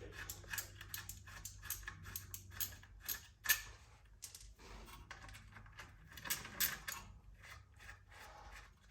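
A 12 mm socket on a ratchet working transfer case guard bolts loose on a Toyota Tundra, irregular clicking and metallic clattering bursts, close and moderately quiet, with brief pauses between runs.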